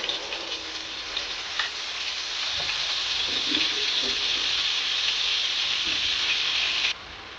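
Two tablespoons of onion paste hit the hot oil left from frying coral fish, setting off a steady, bright hiss that swells and then drops off sharply near the end.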